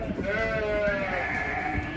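Sheep and lambs bleat repeatedly on a farm, their wavering calls overlapping nearby over steady background noise.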